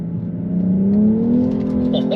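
BMW M240i xDrive coupe engine rising steadily as the car accelerates through a sharp corner, a close, continuous note climbing in pitch with tire and road noise beneath.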